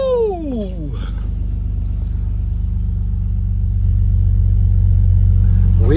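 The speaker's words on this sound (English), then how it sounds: "I forgot how this car sounds" A drift car's engine idling and revving up, a loud low steady drone that builds in level, with an excited voice briefly over the start.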